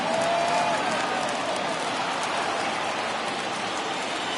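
A crowd of over 39,000 at a baseball stadium in a PS4 game roars with steady, dense cheering and applause, a continuous wash of sound across the whole stretch.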